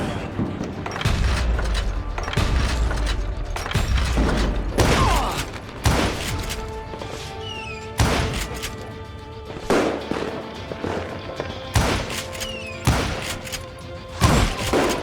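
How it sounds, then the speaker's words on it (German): Western gunshots in Call of Juarez: Gunslinger ring out as sharp, booming reports, roughly a dozen single shots spaced one to two seconds apart, with mechanical clicks and reverberant tails between them. "Durch ein Fass kann ich durchschießen, aber durch zwei nicht."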